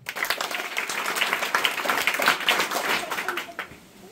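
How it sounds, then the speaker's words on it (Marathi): Schoolchildren at a school event applaud their guests, a dense burst of many small hands clapping together that holds for a few seconds and then tapers off. "सर्वांसाठी जोरदार टाळ्या"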